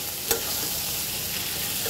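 Fried fish is stirred through in a frying pan, a steady close sizzle with a single sharp scrape of the utensil near the start.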